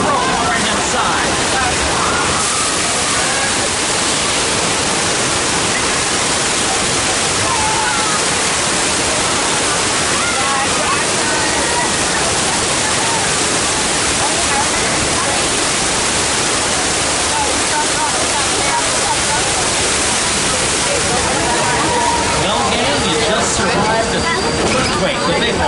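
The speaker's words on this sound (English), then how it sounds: "Oh, no! Water main broke on the right-hand side." Loud, steady rush of gushing water from a simulated burst water main on the Universal Studios Hollywood studio tour, filling the whole stretch as broadband roar with crowd and guide voices mixed underneath.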